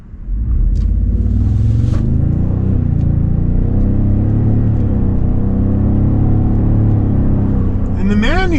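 Steady, loud engine rumble and road noise from a 2026 Toyota Sequoia Limited hybrid accelerating in sport mode while being shifted manually, heard from inside the cabin under ongoing talk.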